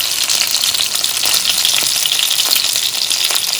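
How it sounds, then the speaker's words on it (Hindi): Reshmi kebabs frying in a pan as each side is browned over medium flame, a continuous close, dense sizzle with no talking. "इसलिए मैं इसकी चारों साइड जो हैं फ्राई कर रही हूँ।"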